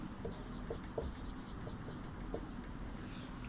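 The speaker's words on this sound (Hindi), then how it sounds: "यहाँ पे हम लोग लिखेंगे" Chalk or marker writes on a classroom board during a Sanskrit lesson, making faint, quiet scratching strokes with a few soft taps in a hushed room.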